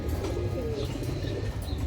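Pigeons at a pigeon farm coo in soft, low repeated calls amid faint background bustle, with no clear talking.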